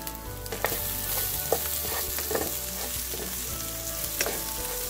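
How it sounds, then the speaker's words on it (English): Potatoes sizzle steadily in a hot pan while being stirred, slightly crispy, with scattered scraping and clinking knocks against the pan, no voices. "The potatoes are slightly crispy, as you can hear when I move them on the pan"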